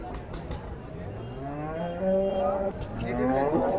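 Cattle low and moo nearby at a livestock market in Siddipet, including a Karnataka-breed calf, several drawn-out calls overlapping, with people talking faintly in the background.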